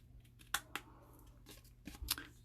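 Scissors snip overhanging paper on a 12x12 scrapbook layout, a few sharp separate cuts, close and fairly quiet, with no talking.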